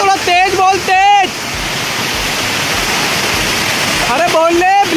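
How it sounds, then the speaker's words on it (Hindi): A waterfall roars as a steady broadband rush, with people talking loudly over it at the start and end. "और झरना देखो कितना प्यारा दिख रहा है"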